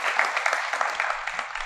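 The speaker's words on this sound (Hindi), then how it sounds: "तालियां होनी चाहिए।" Audience at a panel discussion applauding a guest, Darakshan Lal: a dense, steady wash of many hands clapping that carries on evenly from start to finish with no voices over it.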